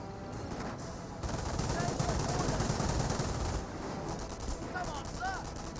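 Gunfire aimed at an infantry squad in the World War II strategy game Company of Heroes 1, rapid machine-gun bursts and shots rattling faintly in the background while a voice speaks over them.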